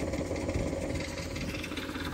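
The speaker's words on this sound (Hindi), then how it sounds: "ये रहा अपना ट्रैक्टर," A tractor engine runs steadily while spraying pesticide on a soybean field, a continuous loud, dense rumble with a broad mechanical roar and no pauses, heard close by without speech.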